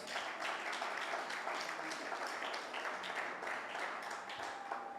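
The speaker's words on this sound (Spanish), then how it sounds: "Dale un aplauso al Señor, pues." Church congregation applauding during a Spanish-language sermon, a steady wash of clapping held at a moderate level for several seconds with no break.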